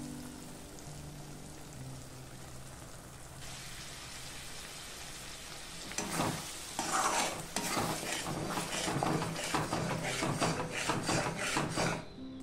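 A yogurt mixture is stirred into sizzling fried masala in a pan for Afghani egg curry, with a steady frying hiss that turns louder and busier midway as a spoon scrapes and mixes rhythmically, close and without talk.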